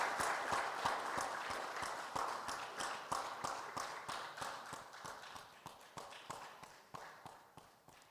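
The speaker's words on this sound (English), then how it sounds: "A round of applause." Applause from a forum audience at an economic conference in Ghana, made of sharp, fairly regular claps that are clear at first and slowly thin and fade.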